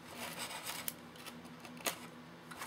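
Material is cut by hand while building a Phoenix Models Sukhoi SU-31 model plane, giving faint, close rasping strokes with a couple of sharp snips, heard alone at low level.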